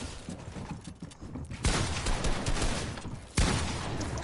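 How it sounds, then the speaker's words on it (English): Bursts of gunfire in the Fortnite battle royale video game, a noisy wash of shots with two loud onsets partway through, close and fairly continuous, with no talk. "Two of y'all are shooting at me."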